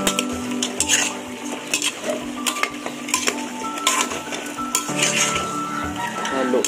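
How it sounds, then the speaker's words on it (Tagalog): A spoon scrapes and clinks against a cooking pot as pork sinigang is stirred, with repeated close metallic knocks and rattles in an irregular rhythm over a faint simmer. "Haluin na natin mga paps."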